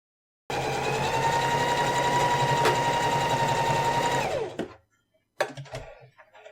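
A sewing machine runs steadily for about four seconds, stitching two backpack straps together, its motor whirring loud and close before winding down, followed by some brief handling noise.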